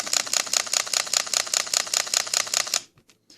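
A Sony A7 camera fires its shutter in a rapid continuous burst of about fifteen evenly spaced sharp clicks. The clicks are close and loud and end abruptly, followed by a brief quiet tail.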